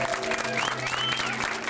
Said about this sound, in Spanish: aplauso para Vicky Clara.